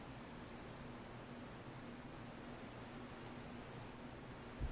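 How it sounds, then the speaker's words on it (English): Steady hiss of white noise in the horror game God's Basement 3, an even, unbroken wash at low level with a soft thump near the end. "Can you hear it? White noise."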